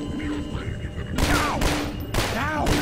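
Pistol fire in Garry's Mod during an apartment raid, a few sharp cracks with ringing tails, two main shots about a second apart over a murmuring background.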